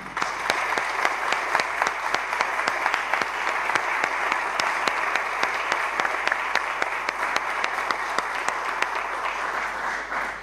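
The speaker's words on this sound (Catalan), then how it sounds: "demano a tots vosaltres un aplaudiment" A crowd applauds steadily at an alumni award ceremony, dense clapping filling a large room at an even level for several seconds.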